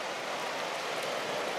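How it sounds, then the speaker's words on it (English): Ocean waves wash against a tropical shore in Guam, a steady, dense hiss of surf and foamy water, fairly close and unbroken, with no voices. "You can just hear the waves crashing, and it's super relaxing"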